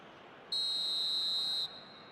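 A referee's whistle blows for a foul in the football video game eFootball, a single sustained shrill blast lasting about a second, loud and alone over faint background noise.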